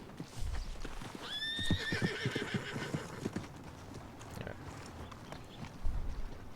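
A horse in the Red Dead RP video game gives a sharp whinny followed by a run of clopping hoofbeats, fairly close, with rumbling ambience underneath and no talk.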